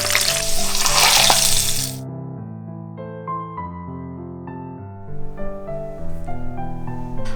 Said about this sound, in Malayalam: ബീൻസ് ജസ്റ്റ് ഇതുപോലെ ചെറുതായിട്ടൊന്ന് കട്ട് ചെയ്തിട്ട് നമുക്ക് അതും കൂടി ഒന്ന് ഫ്രൈ ചെയ്തെടുക്കാം.